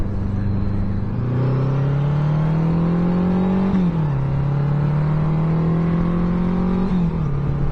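A 1982 Honda Goldwing 1100 motorcycle engine pulls hard and climbs in pitch, easing off briefly between gears before rising again, loud, close and steady, with no voices.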